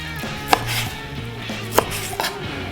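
A knife cutting steak into bite-size pieces on a board beside a Blackstone griddle: three sharp, separate chops at uneven intervals, close and clear with no talking.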